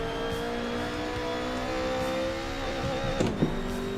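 A BMW E30 car drives along, its engine droning steadily inside the cabin with a brief mechanical rattle near the end.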